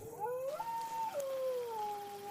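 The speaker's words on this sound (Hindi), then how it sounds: "अचानक गांव के कुत्ते एक साथ रोने लगे।" Dogs in a village howl together, their drawn-out, wavering tones rising and falling in overlapping lines over a few seconds, faint and somewhat distant.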